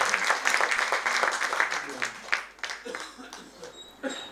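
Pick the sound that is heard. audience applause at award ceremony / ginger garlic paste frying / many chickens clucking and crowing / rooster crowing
audience applause at award ceremony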